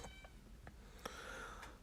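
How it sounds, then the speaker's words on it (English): A female cat in heat gives a few drawn-out, plaintive meows indoors, moderately close, with a longer wavering yowl in the middle, over quiet room tone. "Oh, my cat's in heat."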